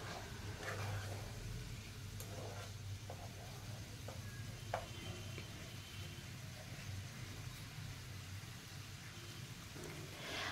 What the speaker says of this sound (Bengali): আবারও একটু নাড়াচাড়া করে নিচ্ছি মিনিট 3-4 সময় ধরে